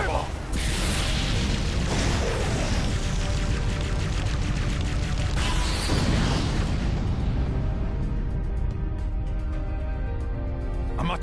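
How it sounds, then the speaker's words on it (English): A fireball jutsu blast in Naruto x Boruto Storm Connections roars out as a loud, sustained fiery burst with rumbling booms over several seconds, fading into a crackling tail, with in-game voices around it. "Fireball!"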